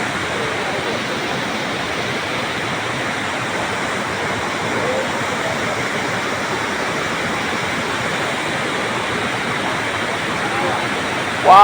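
Piduan Falls, a waterfall deep in a forest, roars in a steady, broadband rush for the whole stretch, loud and continuous, with a brief louder burst at the very end.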